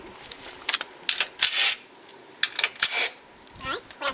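Metallic clicks and rattles from 13mm bolts being unscrewed and handled on the front bumper of a BMW E36 M3, arriving as bursts of close, sharp clatter with brief pauses between them.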